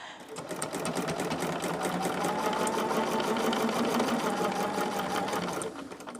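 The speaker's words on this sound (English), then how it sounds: "Now, I'm going to pin these together and sew them." A sewing machine stitches pinned quilt fabric pieces together, a loud, steady mechanical whir with a fast regular needle rhythm that starts up, runs evenly for several seconds and then stops.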